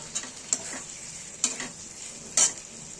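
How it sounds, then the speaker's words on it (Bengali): Parwal being stirred into a simmering Bengali doi potol gravy, with a soft, continuous sizzle broken by four sharp clicks of a utensil against the pan. "পটলটা আমরা এই গ্রেভির মধ্যে দিয়ে দিলাম।"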